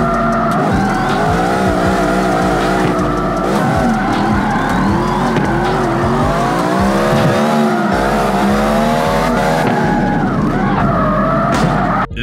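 Street race cars in the open-world racing video game CarX Street roar continuously with engines revving and shifting, tires squealing through drifts, loud and close without talk.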